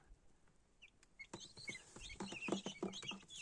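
Guinea fowl in a farmyard give a run of sharp, rasping, repeated calls with clucking notes, faint at first and then louder and busier toward the end, with no voices.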